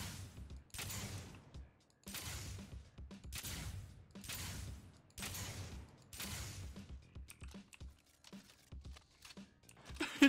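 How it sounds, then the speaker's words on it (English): A shotgun in a Cyberpunk 2077-style Unreal Engine 4 game fires five loud, evenly spaced blasts, each with a fading tail, followed by lighter clicks and mechanical handling sounds. "Switch to the shotgun."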